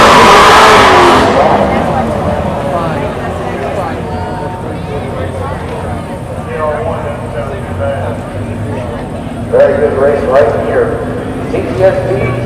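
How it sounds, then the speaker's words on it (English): A V12 race car engine at Texas Motor Speedway, a loud roar that builds early and then fades into a steady rumble, with further engine surges near the end and people talking over it. "Is that a V12?"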